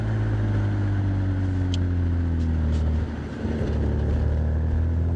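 A Porsche 987 Boxster engine while driving on an early-morning road, a steady loud low drone with a slight dip and recovery partway through, with wind noise and no talking.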